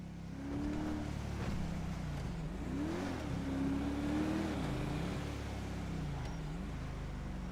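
A car engine in the video game GTA 5 hums and rises and falls in pitch as the car speeds along, a steady, moderately loud drone with repeated swoops.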